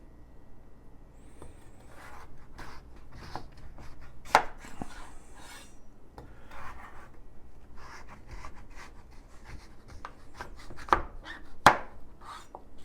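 A kitchen knife chops butternut squash into chunks on a cutting board, with irregular crisp thuds and scrapes, several louder cuts near the middle and end, and no talking.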